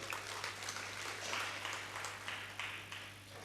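Lecture-hall audience at the Tatyasaheb Tendulkar lecture series clapping together, a soft, distant, even patter of many hands lasting the whole stretch over a steady low electrical hum.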